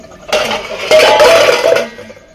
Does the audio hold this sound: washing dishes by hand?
yes